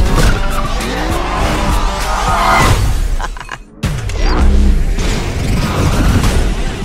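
A car skids after the e-brake is pulled, giving a loud, sustained tire squeal mixed with engine roar and crashing impacts, briefly cutting out midway before the screeching and rumble surge back.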